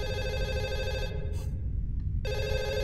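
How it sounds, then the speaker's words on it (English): A landline home phone rings inside a horror video game, with loud electronic trills that stop for about a second and then start again, heard alone with no talking. "It sounds like a home phone, like a landline home phone."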